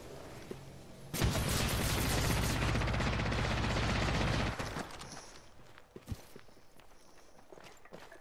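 Dense burst of gunfire in a battle royale game, a loud rapid fusillade lasting about three seconds, then fading to scattered shots and footsteps, no talk.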